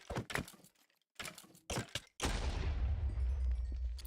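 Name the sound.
explosion in Minecraft GTNH video game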